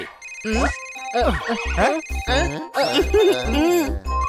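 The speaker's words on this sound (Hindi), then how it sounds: "किटी का फोन आया है" A bright electronic phone ringtone plays a repeating melodic tune with pulsing bass beats, loud and close, filling the whole stretch.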